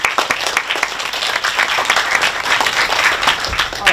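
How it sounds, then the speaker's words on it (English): An audience applauds at the final of a national high-school bilingual debate competition, a dense, steady burst of many hands clapping together at full volume for the whole four seconds. "let's give a round of applause"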